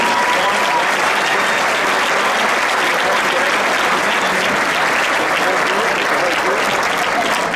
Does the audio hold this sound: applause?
yes